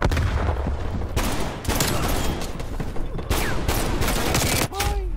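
Gunfire from a single-shot shotgun in Black Ops Cold War, a run of loud, dense blasts in heavy bursts with brief gaps between them, close and crowding the scene.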